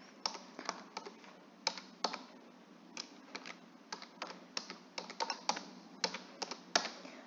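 An email address is typed on a computer keyboard, steady irregular clicks of individual keys in quick little runs with brief pauses, close and fairly quiet with nobody speaking.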